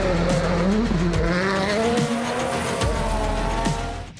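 Rally car engines in Concepción province, Chile, roar loudly and continuously, revs rising and falling with tire squeal and skidding on gravel roads, close and sustained for several seconds.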